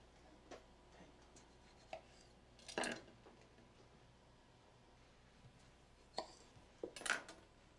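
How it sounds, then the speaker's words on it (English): Kitchen knife slicing small tomatoes on a board, a few separate sharp cuts and taps spread out with pauses, quiet and close in a still room. "Just slicing them through their midriffs."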